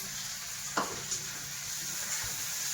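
Chopped onion and tomato sizzle quietly in a pan with cumin, mustard seeds and curry leaves, a soft steady frying hiss broken by a brief stir or two, with no voices.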